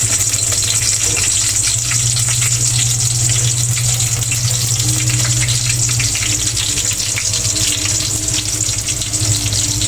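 Chopped onions frying in a hot pan for chicken tinola, a steady loud sizzle running unbroken throughout with no talk.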